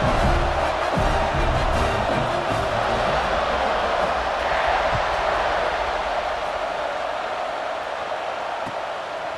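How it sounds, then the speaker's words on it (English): Stadium crowd noise in the College Football 26 video game, a steady loud roar and buzz of cheering that fills the whole stretch without a break. "this crowd is buzzing after that last score"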